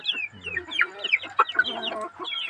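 Chickens clucking and squawking close by during feeding, a busy run of short overlapping calls.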